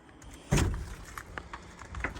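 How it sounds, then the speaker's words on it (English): A wooden lean-to shed door behind a workshop is pulled open with a single loud thud and scrape, followed by a few lighter creaks and knocks as it swings, close by with no talking. "let me pull this door open"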